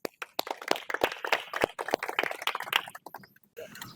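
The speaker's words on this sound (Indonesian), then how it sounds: "Tepuk tangan." Hand clapping by a small group after a swimming dryland exercise session, with quick uneven claps close by, fairly quiet and ending abruptly.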